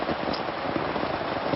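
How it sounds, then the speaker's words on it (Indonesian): Steady rain falls on a mountain hiking trail, a dense, even hiss of drops pattering nearby with no voices. "Ini mulai hujan lagi"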